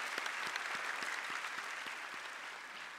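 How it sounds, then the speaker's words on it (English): Conference audience at an education and leadership congress clapping steadily, a continuous wash of applause with a few distinct nearby claps standing out, with no talk over it. "Can we clap again?"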